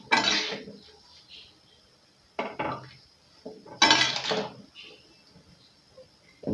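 Cauliflower and peas curry mixed in a pan, heard as three separate bursts of close metallic scraping and clattering from a spoon against the pan, with quieter gaps between them.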